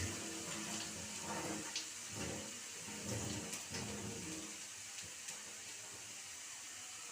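A little water is poured into a pan of cooking poha seasoned with turmeric, giving a quiet, steady wash of pouring and sizzling that runs the whole time, with faint clinks of utensils.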